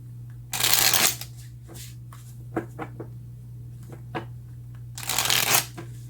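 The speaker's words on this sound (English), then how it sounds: "Let's go ahead and take a couple of clarifying cards." Tarot cards being shuffled in two bursts of rapid riffling patter, close and fairly loud, with a few soft taps and card handling between them over a steady low hum.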